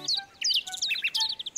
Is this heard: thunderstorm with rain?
no